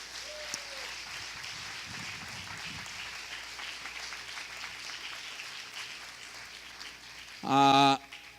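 Church congregation applauding during a Spanish-language service, steady dense clapping from a large crowd under a faint voice, ending with a brief loud tonal electronic sound.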